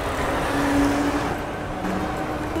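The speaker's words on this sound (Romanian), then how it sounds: "s-a auzit că era motocicletă" Motorcycle passing by on a street in Florence, a moderately loud engine sweep that swells and fades over a couple of seconds.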